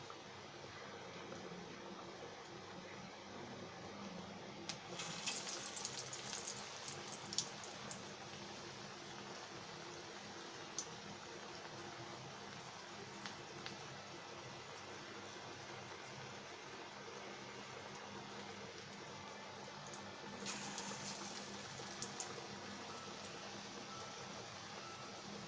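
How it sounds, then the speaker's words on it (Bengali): Onion fritters (peyaju) deep-frying in oil give off a steady, faint hiss and crackle that runs evenly throughout, with a few brief brighter spatters. "আমরা একে একে তেলের ভিতরে ডুবো তেলের মধ্যে দিয়ে দিচ্ছি।"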